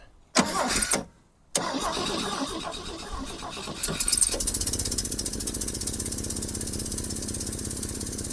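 An old Rambler car engine, run after sitting over 30 years, cranks, stalls briefly, then catches and settles into a loud, rough, steady idle with a throbbing exhaust rumble.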